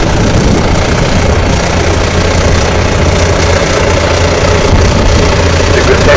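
Loud, steady chugging rumble of a steam engine hauling a weighted sled at a steam pulling event, a continuous low drone with no speech heard.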